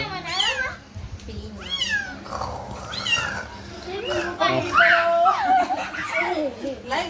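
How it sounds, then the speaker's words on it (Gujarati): A cat meows a few times amid lively children's voices and chatter, with some laughter mixed in. "કેવું બોલે છે મ્યાઉ મ્યાઉ કરે"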